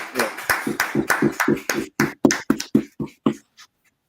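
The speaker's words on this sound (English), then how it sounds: "clap it up, clap it up" A crowd at an outdoor street gathering in Harlem, New York claps in a loose, roughly regular rhythm of sharp hand strikes that slows and thins out, ending in a few scattered final claps and then silence.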